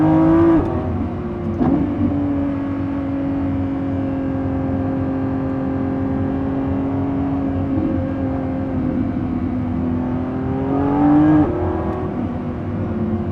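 A 2025 Lamborghini Revuelto on a canyon drive, its engine holding a loud, steady high-pitched drone up close, with brief throttle swells near the start and again near the end.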